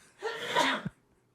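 A single sharp sneeze, close by, with a quick intake of breath before it and silence afterward.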